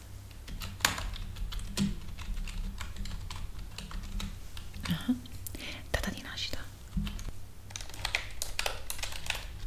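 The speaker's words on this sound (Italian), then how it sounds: "Magari ti rilasserà anche il suono della tastiera che userò ora" Close, crisp typing on a computer keyboard for ASMR in a mock sleep-clinic setting: irregular soft key clicks and taps throughout, with faint whispering mixed in.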